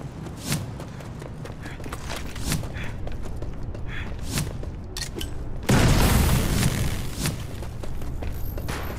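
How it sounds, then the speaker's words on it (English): Booming explosions and scattered gunfire from bombs in the Modern Combat 5 video game, with repeated sharp hits and a sustained heavy roar in the second half, no talking. "Bombs on the way."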